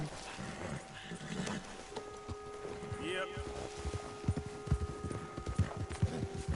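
Horse hooves clip-clop in an uneven gallop in Red Dead Redemption 2, mixed with game ambience and tones, while someone talks over the sound.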